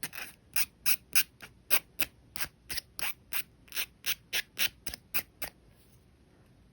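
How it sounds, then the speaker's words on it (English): A metal file rasps the ends of jewelry wire in about twenty short, quick, evenly paced scraping strokes, close and fairly quiet, then stops. "I'm using a metal file here."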